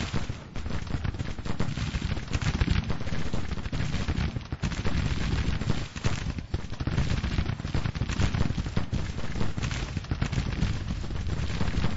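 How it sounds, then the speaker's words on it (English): Continuous gunfire along a battle line in the Grand Tactician strategy game, dense overlapping musket volleys and booming cannon forming an unbroken roar that runs loud and steady throughout, with no talk. "Lots of firing all along the line now."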